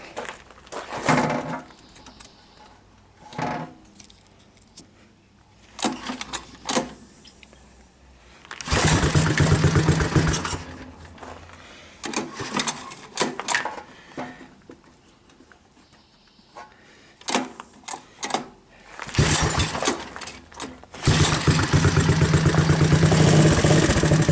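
A Honda ATC185S three-wheeler engine that won't idle runs in uneven bursts, revving up and dropping away repeatedly, with several sustained loud stretches between quieter gaps.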